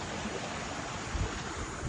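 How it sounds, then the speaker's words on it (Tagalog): A forest stream among tall acacia trees flows with a steady, broadband watery rush, continuous and fairly close, with no voices heard. "Ayan, may batis."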